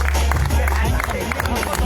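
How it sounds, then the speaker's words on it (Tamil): An audience at a cricket gala claps and cheers for the scorers and umpires, a dense, steady wash of applause with crowd noise and a voice over the top. "எல்லாரும் உங்களுக்கு கரகோஷங்கள் கொடுங்கள்"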